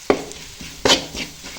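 Coriander powder stirred into a curry base frying for fish curry: two or three close scraping stirs with a light sizzle between them, short and fairly loud, no talking.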